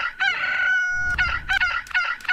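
A rooster crows loudly and close, one long harmonic call followed by a run of shorter broken crows and clucks, with no talk over it.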